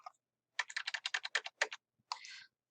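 Quick run of crisp keystrokes on a computer keyboard while a comment is typed, a dozen close, even taps followed by a brief pause and a final softer clatter, with no voice.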